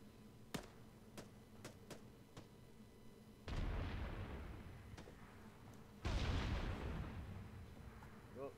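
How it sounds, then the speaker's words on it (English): Mortar shells land in the military game Arma 3 with two heavy, rumbling booms that swell and linger, each following a few sharp, distant cracks of gunfire. "The mortars are being dropped on our other elements."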